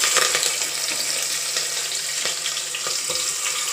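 Onions hiss and sizzle as they drop into hot oil for a paneer biryani cooked in a pressure cooker, a close, continuous crackle with scattered pops and stirring scrapes.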